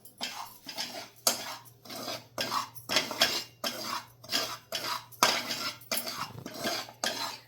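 Semolina dry-roasting in a pan over a low flame while a spoon stirs it constantly, making rhythmic metallic scrapes and clinks against the pan about once a second, close and clear.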